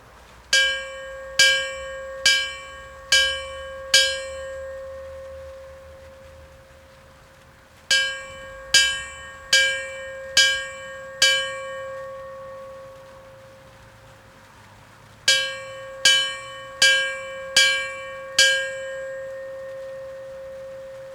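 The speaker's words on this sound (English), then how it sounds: "Lieutenant Jeff Howdyswell will now ring the bell in remembrance of all the victims of 9/11" A memorial bell rung at a 9/11 remembrance ceremony in Prince William County, struck in three clear sets of five evenly spaced ringing strokes, each tone decaying before the next, with quiet pauses between sets.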